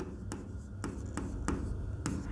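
Pen strokes scratch across paper while a maths solution is written out, a soft continuous rustle broken by several quick sharp marks, close and quiet with no voices.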